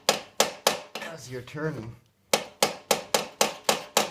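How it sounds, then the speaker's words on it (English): Hammer lightly tapping a screwdriver on a corroded distributor screw of an '87 Nissan Pulsar NX, a steady series of sharp close metallic taps with a brief spoken remark between bursts. "you take your normal screwdriver that you'd use on that screw, and you get a hammer and you just lightly tap"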